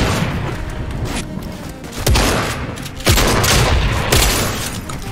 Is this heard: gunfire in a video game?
yes